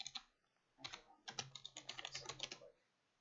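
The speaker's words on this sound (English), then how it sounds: "my clicky ass keyboard is right underneath my mic" Rapid clicky computer keyboard typing close to a podcast microphone, a short burst then a dense run of crisp keystrokes lasting about two seconds, alone in a quiet room.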